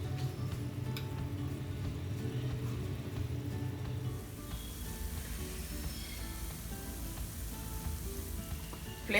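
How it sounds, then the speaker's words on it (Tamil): Wheat flour sweet balls frying in hot oil in a pan over a medium flame, giving a steady, dense sizzle that runs throughout and swells briefly at the very end, close up with no talking. "ஒரு பேனில் எண்ணெய் வச்சு எண்ணெய் சூடானதும் சின்ன சின்ன உருண்டையாக அதில் போட்டு எடுக்கலாம்."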